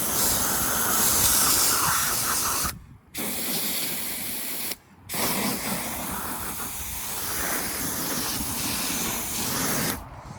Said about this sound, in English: So I'm just gonna take the garden hose to it